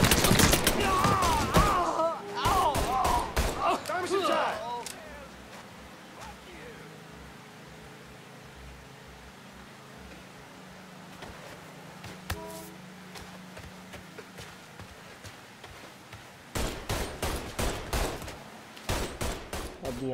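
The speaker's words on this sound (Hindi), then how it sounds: "ये लोग तो फायर करना चालू कर दिए" Enemy gunfire in the Mafia III video game: a voice talks over the first shots, then sharp bursts and rapid volleys rattle near the start and again in a dense, loud cluster at the end, with a quieter rumbling lull between.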